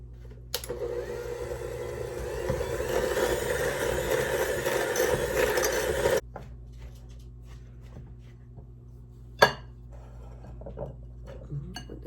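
Butter, brown sugar and granulated sugar being mixed in a bowl, likely with an electric mixer, making a loud steady whirring for about six seconds, then stopping, followed by quiet scraping and a single sharp clink.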